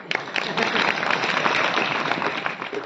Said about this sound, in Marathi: टाळी वाजवायला काय हरकत?